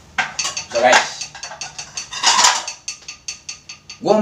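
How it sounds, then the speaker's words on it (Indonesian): A spoon taps repeatedly on a plate, loud and close, as a sharp series of ringing clinks with louder clattering bursts of dishes in between. "Ini piring guys, lo nggak percaya ini piring? Nih, gua tes pakai sendok."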